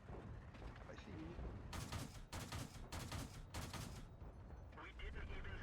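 Tank cannon fire and rapid bursts of gunfire echo from a World of Tanks battle, several sharp blasts in quick succession over a low rumbling background and game noise.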